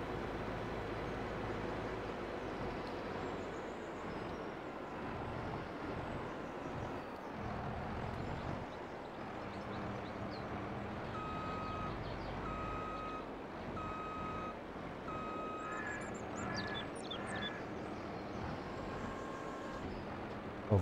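A grape harvester reverses up to a trailer in Farming Simulator 22, its steady reversing beeper repeating over a constant engine drone, with a brief squeal of machinery near the end.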